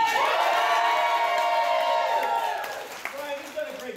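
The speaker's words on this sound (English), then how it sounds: "Can I hear a good round of applause for Brian?" An audience cheers and whoops for a volunteer named Brian at an escape-act stage show, with loud shouting and clapping that gradually fades over a few seconds.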